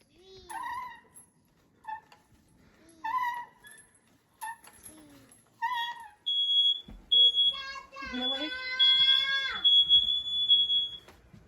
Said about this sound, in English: it came into question whether or not some smoke detectors are working